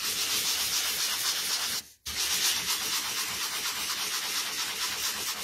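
A sanding block is rubbed gently back and forth over textured white gloss card, producing a close, continuous scratchy rasp with a short pause partway through.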